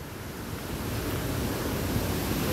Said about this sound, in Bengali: এই দেখো আর থাকবে না, জলের ওপর জল পড়তে